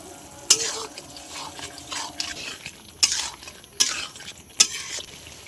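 Large-cut onions and soy sauce stir-fried in a pan for a chicken recipe, soft sizzling punctuated by four sharp spatula scrapes and clinks against the pan at uneven intervals.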